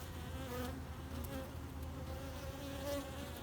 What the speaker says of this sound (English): I know there's a lot of bees in there